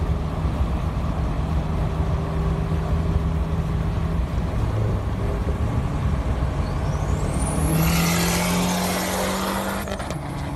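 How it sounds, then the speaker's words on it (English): A Dodge SRT4 running hard through the gears makes a loud, continuous engine drone. A rising whistle and a burst of turbulent rush follow, then a gurgling note between shifts. "Listen to that gurgle between the shift, the no-lift shift."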